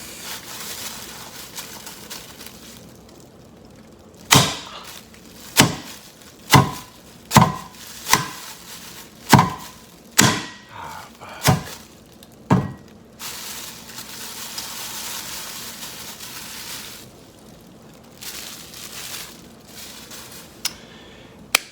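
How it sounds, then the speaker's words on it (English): A series of about nine sharp cracking and crunching impacts, irregularly spaced, as a glass pipe is struck and shatters, with quiet handling noise before and after. "that is the sound of me breaking a meth pipe"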